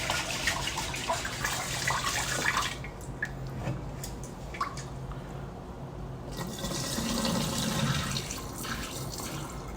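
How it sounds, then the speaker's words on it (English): Rice being rinsed in water for meal prep, with steady running and splashing water sounds, dripping and swirling close by throughout, no talk. "we'll rinse it and we're gonna repeat the same process."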